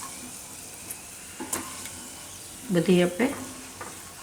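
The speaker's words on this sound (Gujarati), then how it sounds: "આપણે આ રીતનું શેકવાનું છે, બદામને કાજુ થોડુંક બ્રાઉન થાય એવું." Almonds and cashews roast in a pan for pava laddu, soft stirring scrapes and a brief cluster of louder rattling clatter near the end, with a voice speaking briefly.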